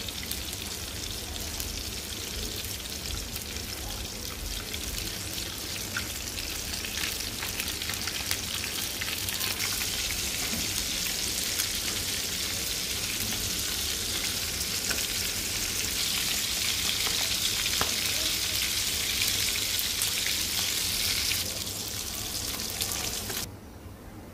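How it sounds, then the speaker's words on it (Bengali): Rohu fish pieces fry in hot oil with a steady, dense sizzle and crackle that holds at an even level for the whole stretch, close by and with no voices. "এরপর মাছগুলো ভেজে নিব।"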